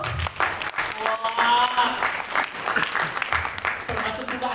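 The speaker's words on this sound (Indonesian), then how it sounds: "Tepuk tangan untuk Anen dulu." Wedding guests at a church marriage ceremony applaud for Anen, a steady round of clapping under a speaker's voice and a brief exclamation.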